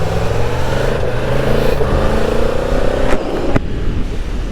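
A Yamaha MT-10 motorcycle pulls away on tour in northern France, its engine a steady, close, loud drone that builds slightly with a brief rising sweep near the end, no talk over it.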